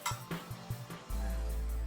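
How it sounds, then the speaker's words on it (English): A fork clinks against a bowl while stirring buffalo wing sauce made with butter, a few light rhythmic taps close by, followed by a steady low rumble from the kitchen. "Hope it's not too much clinking with my"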